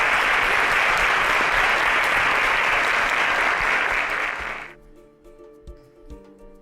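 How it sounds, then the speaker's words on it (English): An audience applauds loudly as contestants leave the stage, a dense sustained clapping that dies away after about four and a half seconds into scattered faint sounds. "A round of applause for them as they exit the stage."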